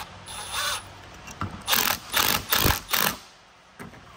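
A ratchet tightens a hose clamp on a Ford 6.7 diesel engine, with several quick bursts of rapid clicking at close range and brief pauses between strokes.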